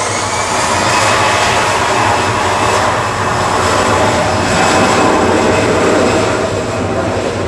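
A Danish Air Transport ATR 72-500 turboprop flying for Aer Lingus Regional touches down at Manchester Airport, its engines a loud, steady drone that holds throughout with a slight swell near the middle.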